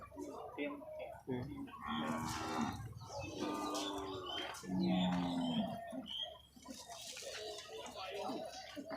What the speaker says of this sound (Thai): นี่ก็เป็นน้องควายครับเนี่ย